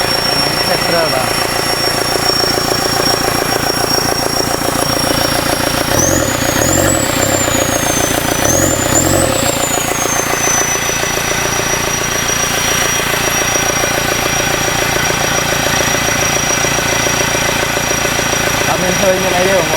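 A Toyota Vigo pickup's engine idles steadily right after starting, a continuous mechanical drone with a faint whine running throughout, and a few brief throttle blips midway.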